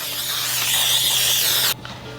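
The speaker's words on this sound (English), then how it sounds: "our baking spray with flour, and that's gonna make sure our cake doesn't stick" Baking spray with flour hisses from a can into a cake pan in one steady, close spray lasting under two seconds before cutting off abruptly.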